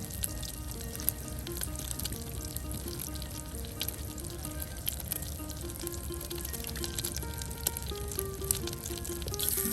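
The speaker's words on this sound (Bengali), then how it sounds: "তেলে কিন্তু আপনার ভেজে নেওয়া হচ্ছে দেখুন একদম ডোবা তেলে সুন্দর করে ডিম পুষ যেটাকে বলা হয় কিংবা আপনার ডিম ভাজি" Eggs deep-fry in plenty of oil at an outdoor riverside cooking spot, a steady crackling sizzle with occasional pops, while music plays faintly in the background and no one speaks.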